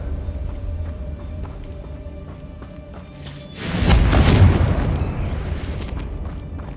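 A Confringo fire spell in Hogwarts Legacy detonates with a deep, booming blast that swells and rumbles for a couple of seconds before fading under game ambience.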